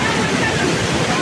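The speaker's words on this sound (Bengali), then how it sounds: "ওই যে উপরে দেখো যে ঝর্ণার জল নামছে" Waterfall water pouring down over rocks at a shrine, a steady, loud, close broadband rush with no breaks.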